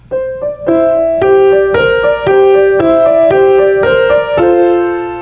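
Piano notes of a new piece being practised ring out close and loud, a steady series of gentle melodic steps over a held lower note, each tone sustaining into the next with no voices.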